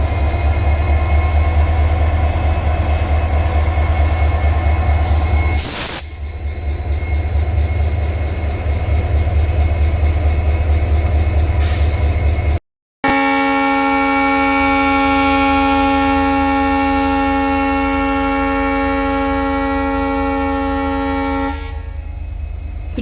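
Diesel locomotive hauling the Bikaner superfast express, loud and close: a steady engine rumble, then a long sustained horn blast with strong tonal bands that runs for several seconds before cutting off, no talking.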